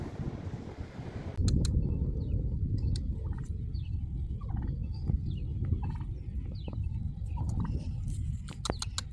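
Turkeys gobble in short bursts while being fed, over a loud, low rumbling background, several calls repeating irregularly close by without speech, on Staten Island, New York.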